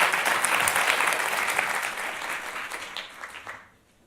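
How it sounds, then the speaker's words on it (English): Audience applause for a guest on a show about voting and justice, a dense crowd clapping steadily at first, then thinning and fading to quiet near the end. "let's give another round of applause for our guest here"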